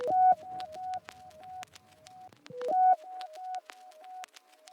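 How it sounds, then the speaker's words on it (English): An atmospheric texture for a jazzy hip hop beat: a soft, sustained tonal pad carrying a stepped, repeating melodic line with light clicky transients, looping twice in moderate level with no voices. "we're going to start off with this atmospheric sound which I'm going to use as a texture"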